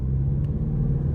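A 2025 Ford Mustang EcoBoost engine pulling away under acceleration, heard from inside the car as a brief, steady low rumble and hum.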